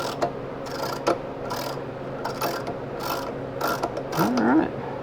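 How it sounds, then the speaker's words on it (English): A ratchet tap wrench cuts a 5/16-18 thread into metal for a Jeep XJ skid plate mod, giving loud, close ratcheting clicks in short bursts with pauses between strokes and a brief squeak near the end. "Tapping it out to a 5/16, 18 thread."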